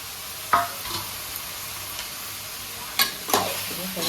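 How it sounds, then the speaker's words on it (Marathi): Vegetable filling for patties sautéed in a pan, giving a soft steady sizzle broken by a few sharp spatula scrapes and knocks. "आता आपण ही भाजी टाकूया. भाजी परतून घेऊया."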